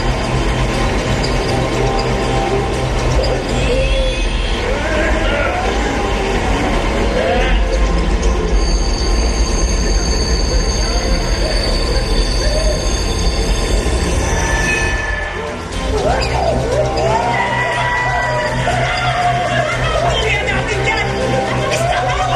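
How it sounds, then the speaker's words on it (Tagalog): A train running on rails in a film scene, a steady loud rumble with wheel squeals and clatter throughout, under crowd chatter and talking voices. "Pahintuin natin ang tren."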